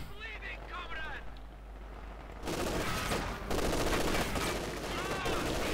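A B4 howitzer fires in the Company of Heroes 2 strategy game, a sudden loud blast that booms and rumbles on amid battle noise, after a stretch of quieter ambience with a voice.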